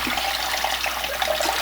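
Apple cider vinegar splashes into a sink already partly filled with water, making a brief, steady, close rush of pouring liquid with no voices.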